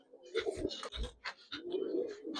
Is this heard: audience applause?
no